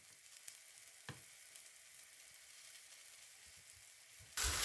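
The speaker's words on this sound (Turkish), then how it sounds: "Bir tatlı kaşığı kadar salçam ilave ediyorum." Tomato paste frying with onions in a pan makes a faint, even hiss with a couple of light utensil taps, then a sudden louder burst of sizzling at the very end.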